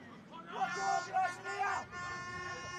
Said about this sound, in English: Air horns and everything here at the Southern Soccer Facility